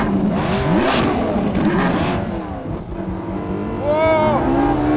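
LaFerrari, Porsche 918 and McLaren P1 hypercars launching at the Portimao circuit, loud engines revving and rising in pitch through gear changes, close and continuous, with excited voices over the roar.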